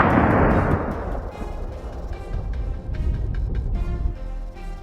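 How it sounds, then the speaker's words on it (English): Hunters firing hurried shots on a mountainside at wild boars bolting away, a loud opening blast rolling off into a rumbling decay, followed by sharp, sporadic cracks and echoes. "They bolted so fast that we had to fire immediately."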